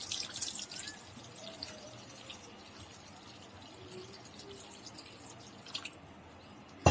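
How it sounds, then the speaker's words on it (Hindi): Water poured into a big vessel holding leftover wheat dough for papad comes across as faint, sparse trickles and drips in a quiet room, with a brief louder splash near the end. "पहले हम एक बड़े बर्तन में इस आटे को रखेंगे और इसमें हम इतना पानी डाल देंगे कि जो आटा है डूब जाए।"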